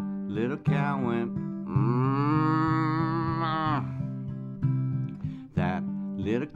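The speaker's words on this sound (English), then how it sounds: "That little cow went." A cow moos in long drawn-out lowing calls, with shorter moos before and after, over steady background music.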